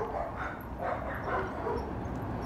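Faint dog barking and yipping beside a motorway-side path, heard distantly through steady wind and road rumble.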